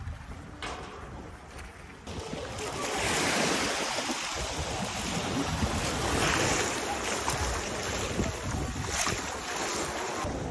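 Sea surf on the Odesa coast of the Black Sea, a broad continuous wash of waves that swells louder after the first couple of seconds, heavily buffeted by wind noise on the microphone, with no voices.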